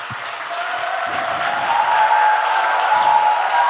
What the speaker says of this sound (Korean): 감사와 영광의 박수를 올려드립니다.